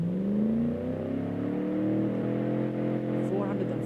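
An old-school overhead-valve aluminium V8 in a 1990s Jeep Cherokee with an automatic gearbox revs during a horsepower test, its engine note climbing and sustained, while someone talks over it.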